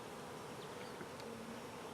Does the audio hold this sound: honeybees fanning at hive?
yes